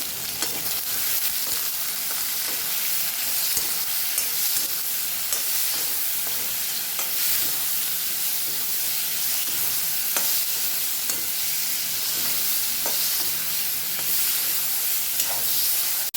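Sliced cucumber with turmeric and salt sautés in hot oil for a Kathiawadi kakdi sambharo, giving a steady, close broadband sizzle with occasional stirring clicks throughout.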